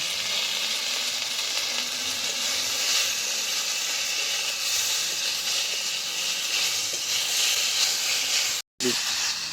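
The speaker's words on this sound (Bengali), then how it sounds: "ঝিঙে ভালো করে ভেজে নিয়েছি।" Ridge gourd fries in oil with salt and turmeric in a pan, giving a dense steady hiss and sizzle that breaks off briefly near the end, and no speech is heard.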